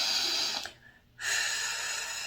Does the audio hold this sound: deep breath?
yes